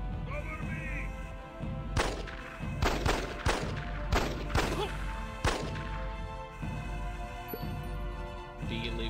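Rapid bursts of blind-fire gunshots from behind cover in a shooting video game, a cluster of sharp loud cracks over about three seconds followed by a few more scattered shots over steady background hum.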